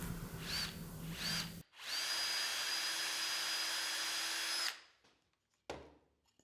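A power drill whirs in short bursts, then runs steadily for a few seconds before winding down, close and loud, drilling taped-depth blind holes in wood boards.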